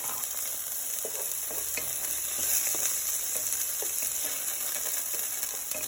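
Onions frying in a pan for Haitian vegetable rice: a steady close sizzle, broken by intermittent scraping and clicking as they are stirred.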